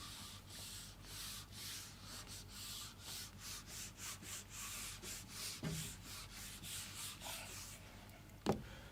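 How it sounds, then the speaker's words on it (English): A duster rubs writing off a board in steady back-and-forth strokes, a soft, rhythmic scrubbing, close but quiet, ending with a couple of light knocks. "Let me rub this portion."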